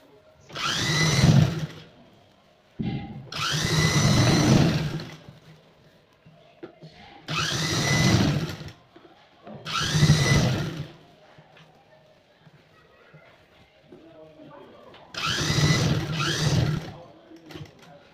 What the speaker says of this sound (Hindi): 1/2 इंच का मार्जिन लेते हुए एकदम फिनिशिंग से हमें ये सिलाई लगानी है पूरे में